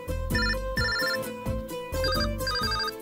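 A mobile phone rings for an incoming call, playing a bright melodic ringtone whose short phrase repeats several times, close and clear with nothing else heard.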